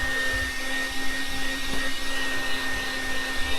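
A vacuum cleaner runs steadily and close by while cleaning a car, a constant loud whine with a droning motor hum and no break.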